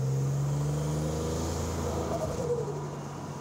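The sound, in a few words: 1987 Buick Grand National engine accelerating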